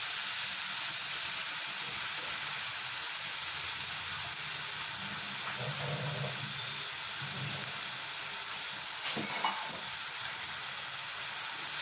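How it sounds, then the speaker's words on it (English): Chopped onions frying in a pan, browning for a vegetarian lunch, give a steady, faint sizzle throughout, with a few soft stirring knocks partway through and no voices. "And let this fry really brown."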